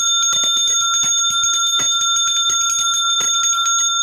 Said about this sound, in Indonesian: Lalu ada yang disebut suara genta bima keroda. Bagaimana suara genta bima keroda?